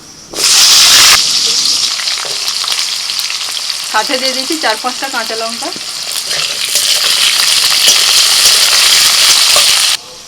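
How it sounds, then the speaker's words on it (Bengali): Potatoes frying in hot oil tempered with a dried red chilli and five-spice, a loud steady sizzle with stirring scrapes throughout, while someone speaks briefly over the cooking midway. "তেলের মধ্যে ফোড়নে দিচ্ছি শুকনো লঙ্কা একটা আর একটু পাঁচ ফোড়ন ফোড়নটা হয়ে গেলে দিয়ে দিচ্ছি আলু"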